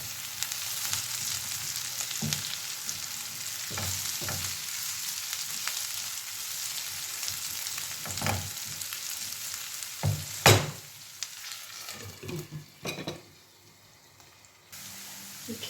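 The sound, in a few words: stirring cabbage and pepper frying in a pan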